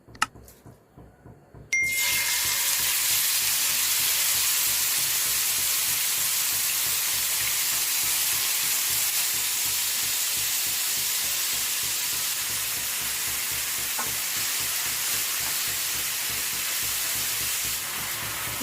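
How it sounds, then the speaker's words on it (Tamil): Chicken pieces fry in about two tablespoons of hot oil for a homemade Mexican chicken shawarma, giving a loud, steady sizzle that holds without pause after a brief quiet start. "இப்போது நம்ம சிக்கனை ஃப்ரை பண்ணலாம்."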